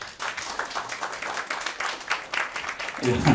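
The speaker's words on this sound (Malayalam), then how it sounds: "എല്ലാവരും കൈയടിക്കുന്ന ഓരോ ഓരോ കൈയടികളും ഓരോ മെഡലുകളായിട്ടാണ് എനിക്ക് തോന്നുന്നത്" Audience applause with steady, fairly close clapping that continues throughout, with talk over it toward the end.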